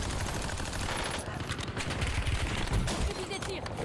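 Rapid bursts of video game gunfire crackle and rattle continuously in a dense, loud barrage, with bullets hitting the player mid-fight.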